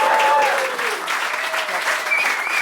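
Loud, dense applause from a crowd in a carnival café, steady clapping throughout with a few shouts and whistles rising above it.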